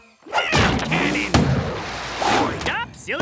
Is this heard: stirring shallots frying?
no